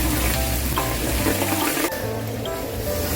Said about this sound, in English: Now let's start to saute the onions.